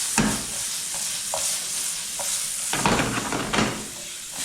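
Mushrooms with salt frying in a pan, a loud close sizzle that runs steadily and swells around the middle, with a few light stirring knocks.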